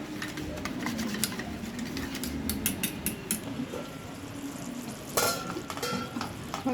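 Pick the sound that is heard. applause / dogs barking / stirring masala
stirring masala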